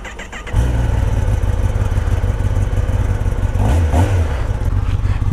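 A Kawasaki Ninja ZX-10R sport motorcycle cranks and fires up, settling into a loud, steady idle close by with a brief blip of revs partway through.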